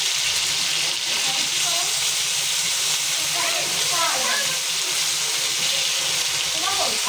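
A constant loud hiss and sizzle of pulao cooking on a stove, close and unbroken, with people talking over it partway through.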